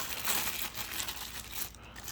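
Plastic wrapping is pulled off the wand of a Shark PowerDetect DuoClean AZ4002W vacuum, making soft, close crinkling and rustling that comes and goes over about two seconds, with no one talking.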